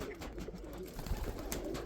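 Domestic pigeons, a mourning-type bird and a pale one, give soft low cooing in a loft, faint and muffled among rustling background noise.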